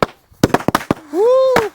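At a New Year celebration, a rapid string of sharp firecracker bursts pops close by, then a rising and falling whistle-like tone follows, with one last crack near the end.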